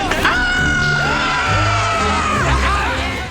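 Monsters at a Halloween party scream and yell together in a loud, close crowd, with rising and falling shrieks and whoops overlapping over several seconds.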